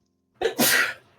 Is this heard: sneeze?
yes